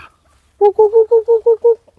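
Chickens at feeding time on a mixed family farm, with a quick run of seven evenly spaced, clucking calls, close and fairly loud, after a brief quiet start.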